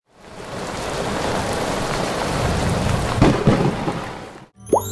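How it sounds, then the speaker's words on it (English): A thunderstorm pours down heavy rain in a steady, loud hiss, with low rumbles of thunder rolling underneath and a couple of sharper cracks near the end before the sound cuts off abruptly. "Thunderstorms bring loud rumbles and heavy rain."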